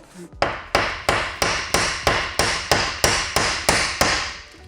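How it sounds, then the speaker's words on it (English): A hammer strikes a grill bracket on a Mini car about eleven times in a steady, even rhythm, each blow a sharp, loud metallic bang heard up close with nothing else over it. "Nah, we don't need to chop. We just need to hammer."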